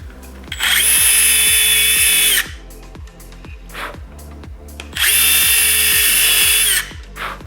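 Two long bursts of a handheld drill whining at high speed while drilling holes through pieces, each lasting about two seconds, with a faint rhythmic thumping underneath.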